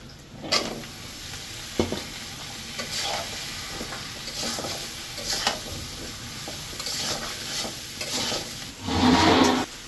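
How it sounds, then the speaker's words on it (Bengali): Bottle gourd is stir-fried in a pan with a soft steady sizzle, broken by repeated scraping stirs and a louder burst of frying at the end. "এই যে লাউটা যে কষাইতেছি, তো একটু ভালোভাবে কষাবো লাউটা।"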